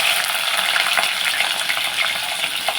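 Cumin seeds and green chilies sizzle and crackle steadily in hot oil for a carrot curry, a dense close frying hiss with small pops throughout and no voices.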